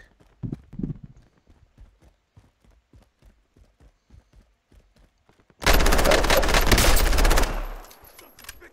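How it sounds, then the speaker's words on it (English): A dense, loud burst of automatic weapon fire lasting about two seconds in the video game Call of Duty Warzone, after a stretch of soft rhythmic footsteps. "That was a lot of bullets."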